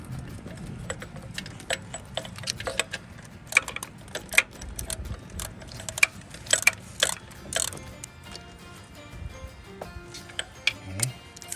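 Quick metallic ratcheting bursts from a wrench tightening a bolt during an alternator replacement on a 2009-2015 Toyota Venza V6, clicking in short uneven runs up close.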